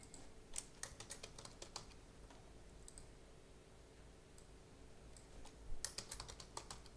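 Typing on a computer keyboard while writing a SQL stored procedure, with quick bursts of key clicks separated by pauses, closer and busier at the start and end, over a steady low hum.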